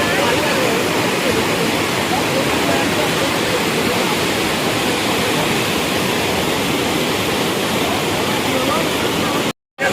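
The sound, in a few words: rushing floodwater stream after heavy rain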